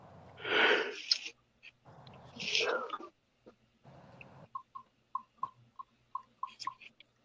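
A woman sneezes twice close by, each a breathy burst, followed by quiet voices and a series of soft rhythmic clicks.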